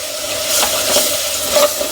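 Turmeric hits hot oil in a clay pot for an egg curry, producing a loud, continuous sizzle with a few soft stirring swells.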